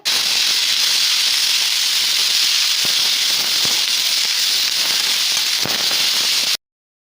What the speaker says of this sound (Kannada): ಸ್ವಲ್ಪ ಆಯಿಲ್ ಹಾಕಿಬಿಟ್ಟು ತೊಂಡೆಕಾಯಿನ ಡೀಪ್ ರೋಸ್ಟ್ ಮಾಡಬೇಕು